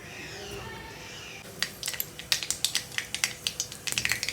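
Mustard seeds splutter in hot oil in a pan: a soft background hiss gives way to a steady run of sharp, crackling pops, close and fairly loud, with no talking.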